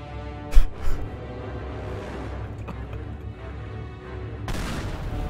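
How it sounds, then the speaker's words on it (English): Explosions in the video game Teardown: two sharp blasts close together, then a steady rumbling, crackling roar of debris, with a fresh burst of noise near the end. "This has added a lot of explosions very quickly."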